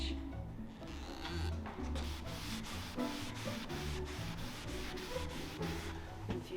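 Hand sanding of a solid wooden IKEA piece makes a rhythmic scraping rub in steady back-and-forth strokes, close and moderately quiet, repeating about twice a second.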